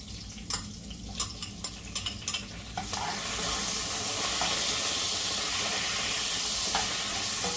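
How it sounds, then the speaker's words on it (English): Codfish dropped into a pan of hot coconut oil for Jamaican ackee and saltfish, a few sharp clinks of the utensil and then a steady loud sizzle as it fries and is stirred. "Then I'm gonna add my codfish right here."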